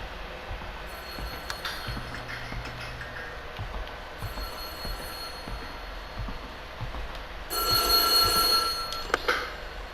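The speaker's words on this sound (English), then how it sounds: "Phone call." In the horror game White Day, a phone rings with an electronic trill that grows louder toward the end, against a faint, quiet background with scattered clicks.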